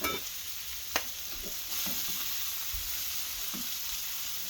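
Sausages sizzle in a frying pan with a steady, soft hiss and occasional light scrapes and taps as they are turned, with no voices.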